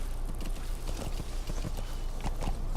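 Horse hooves clip-clop steadily in Metal Gear Solid V: The Phantom Pain, a continuous run of close, even hoofbeats over a busy game background.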